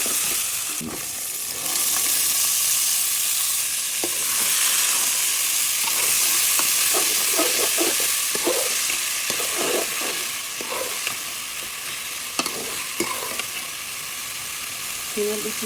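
Hyacinth bean seeds and garlic frying with onions in a pan, a strong continuous sizzle and hiss with scraping stirs and occasional clinks over fifteen seconds, close and loud.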